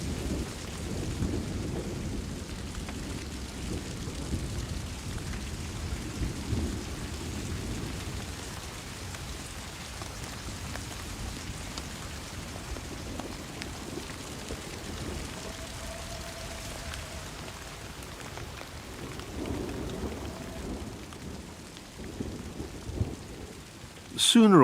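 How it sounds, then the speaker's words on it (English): Heavy rain falls steadily on a drenched forest during a thunderstorm, with low rumbling thunder rolling through and a near crack at the very end. "Sooner or later, the rain will stop."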